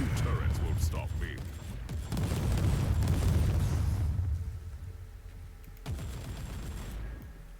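Turrets firing in a shooter game: dense, continuous volleys of gunfire and booming impacts, loud and close, with a brief lull and a resumed burst, under a voice talking.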